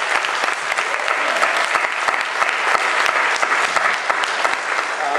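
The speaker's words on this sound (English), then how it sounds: "So please give them another round of applause." A conference audience in London applauds, a dense, sustained wash of many hands clapping at steady loudness from start to finish.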